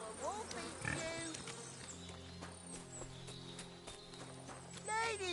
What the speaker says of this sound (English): I found a stray pig.